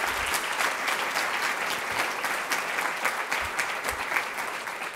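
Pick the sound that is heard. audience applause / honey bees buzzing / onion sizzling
audience applause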